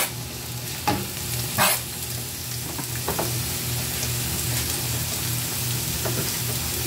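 Chopped onion sizzles in a frying pan with a steady hiss, broken by a few stirring scrapes and clatters near the start, close and fairly loud, with no one speaking.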